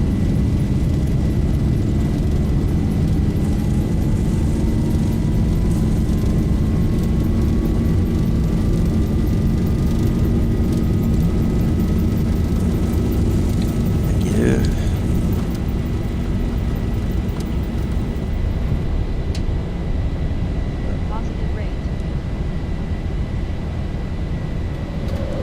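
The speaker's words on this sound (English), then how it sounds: "Takeoff thrust set" Jet engines of a Boeing 737 in the Zibo mod flight simulator roar steadily at takeoff thrust, a loud, continuous, dense rumble with a rising whine, departing Dublin, heard alone without talk.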